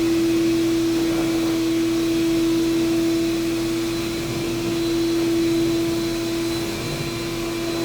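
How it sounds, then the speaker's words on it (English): A two-stage carpet extraction vacuum pulls leftover moisture and citric acid out of a carpet, giving a loud, steady suction roar with a constant whine that holds unchanged from start to finish, with no voices over it. "Hear that suction? That's a 2-stage vac."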